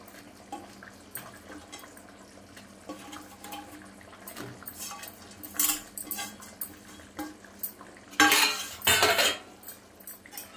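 Bora curry with potatoes, made with gram flour and poppy seed, stirred in a pan over rising heat: scraping and clinking of a spoon against metal, with a louder burst of scraping near the end, no talk.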